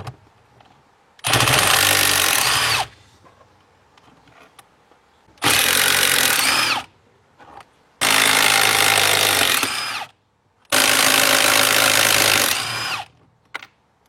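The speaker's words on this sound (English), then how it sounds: "And there's 4 12mm bolts here. I'm going to take those off." A power tool removes four 12mm bolts in four separate loud bursts of whirring and rattling, with quiet pauses between each run and no talking.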